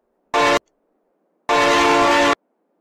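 A Ford 3640 tractor horn in Farming Simulator 22 sounds twice, first as a short blast and then as a longer one about a second later, loud and tonal with no other sound around it.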